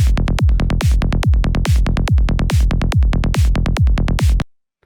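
Synthesized psytrance snare made in Sytrus, hitting with a kick and bass in a fast, steady, driving pulse, loud and close, with no voices, stopping abruptly before the end.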